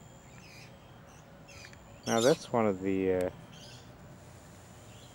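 At a bird sanctuary on a sunny day, noisy miner birds give a short series of loud, harsh, chattering calls close by, lasting about a second. Someone speaks quietly before and after.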